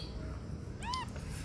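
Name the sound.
kitten meowing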